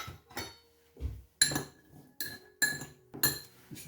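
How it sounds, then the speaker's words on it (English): A spoon stirring coconut into a healthy chocolate mixture in a bowl, giving five or six separate clinks and scrapes against the bowl, close and clear with short pauses between. "So we're going to put the 1/3 cup of coconut in it and just stir it in."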